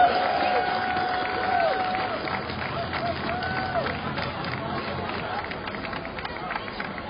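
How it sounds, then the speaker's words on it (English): A crowd at a Halloween parade in Galena, Illinois claps and cheers, with sustained applause and babble under a faint whistle-like tone, outdoors and with talk mixed in. "Let's give them a round of applause and a thank you."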